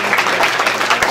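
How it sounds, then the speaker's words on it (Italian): A conference audience at an Italian social-sector convention claps together in a short, dense burst of applause, steady and fairly loud, with no pauses. "Facciamo un applauso"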